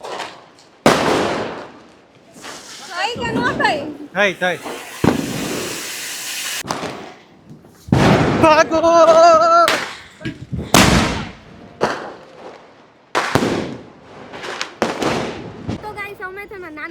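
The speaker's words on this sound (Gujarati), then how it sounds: "પહેલાં હું ફટાકડા કોઠી દઉં પહેલાં કોઠી થઈ જાવ પછી આતશબાજી કરીએ" Diwali firecrackers and fountain crackers hiss and crackle in bursts, sharp pops and fizzing whistles spaced across the stretch, with excited shouting between them.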